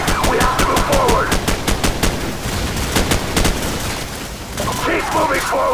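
Video game firefight in an ambush: loud bursts of rapid machine-gun fire and single shots crack in quick succession near the listener, while shouted voices break in at the start and near the end.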